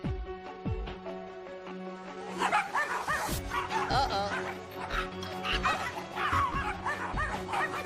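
Several neighborhood dogs bark repeatedly, loud and near, as a dog named Lucky is walked past them, the barking bursts overlapping in an uneven rhythm with no talk.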